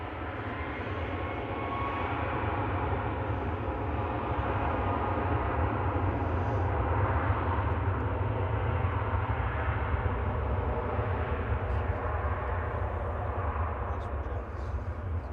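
A ten-year-old Turkish Airlines A330-300 departs Manchester Airport, its jet engines a steady, broad roar held at distance throughout, with no voice heard.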